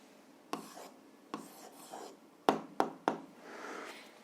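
A pen writes an answer by hand to an algebra exercise, giving soft, close scratching strokes with several sharper taps in a quiet room.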